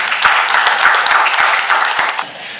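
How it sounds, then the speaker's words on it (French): An audience claps for prize winners at an awards ceremony for a blogging contest, a lively burst of many hands with distinct sharp claps, cutting off abruptly near the end. "Donc, vous voulez bien les applaudir."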